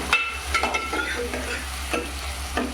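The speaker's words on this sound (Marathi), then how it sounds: "याच्यात एक टोमॅटो आणि एक कांदा घेतलेला आहे एक टोमॅटो घेतलेला आहे फोडणीसाठी" Chopped onion and tomato sizzle in hot tempering oil while a utensil stirs with rhythmic scrapes, over a low steady hum.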